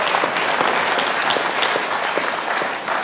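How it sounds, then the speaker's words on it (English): A crowd at a book presentation breaking into applause, a thick, even wash of clapping hands that holds steady for about three seconds before easing off slightly, with no speech. "let's applaud this, ladies and gentlemen"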